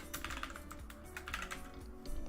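Computer keyboard typing during a live crypto trading session, a steady run of fast close key clicks with uneven bursts, heard alone without talk.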